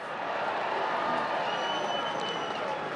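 Racecourse crowd at Cheltenham roaring and applauding as Denman is hailed winner of the 2008 Gold Cup: a broad, distant wash of cheering and clapping, steady and even, with a faint high whine drifting over it.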